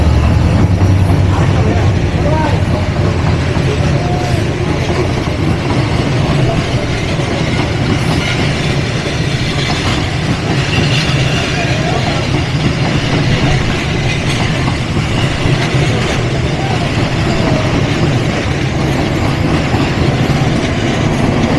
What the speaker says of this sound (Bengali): 3021 লোকোমোটিভ নিয়ে train number 798 down Kurigram express Abdulpur railway জাংশনে